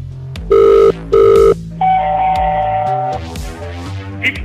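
An old-style telephone bell rings twice in a radio drama, two loud buzzing bursts followed by a longer electronic tone and other studio effects.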